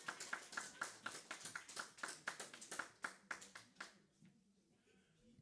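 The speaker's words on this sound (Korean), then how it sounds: "박수 주세요." A church congregation claps together during a Sunday worship service to reward a correct answer, a burst of many hands at a lively steady rhythm that rings for about four seconds and then fades into quiet room murmur.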